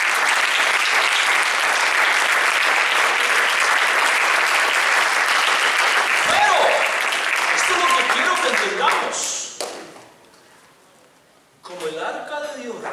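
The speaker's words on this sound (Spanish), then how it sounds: "Denle un aplauso al Señor." Church congregation applauding loudly and steadily for several seconds, the clapping thinning and fading out near the end before brief voices and movement return.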